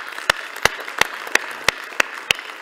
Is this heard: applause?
yes